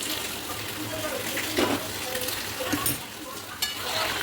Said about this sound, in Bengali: এর মধ্যে এবার আমি আলু ভাজাগুলো দিয়ে দেবো, দিয়ে আলুটা দিয়েও একটু ভালো করে কষিয়ে নেবো